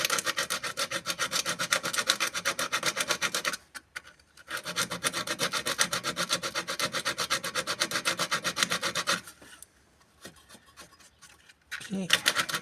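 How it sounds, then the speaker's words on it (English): A file or sandpaper scraping rust and paint off a car's ground connection, rapid rhythmic rasping strokes, loud and close, pausing briefly twice before resuming. "use either sandpaper or you can use a file like this one"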